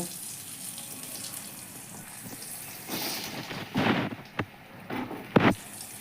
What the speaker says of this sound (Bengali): এখন আমি এটাই তেলের মধ্যে কতগুলো আলুকে ভেজে নেব।